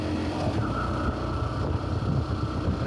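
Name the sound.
motor engine running while riding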